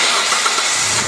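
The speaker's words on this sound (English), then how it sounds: "first I'm going to start the car" A car engine cranks and catches on a warm engine, then settles into a steady, loud mechanical run with broadband noise throughout and no talking.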